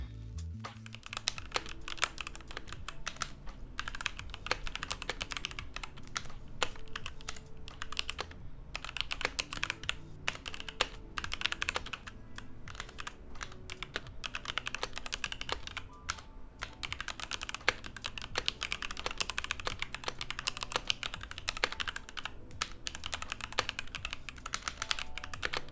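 Typing on an NZXT Function gaming keyboard, a long run of rapid, crisp keystroke clicks and clacks with uneven rhythm, close and clear with no talking.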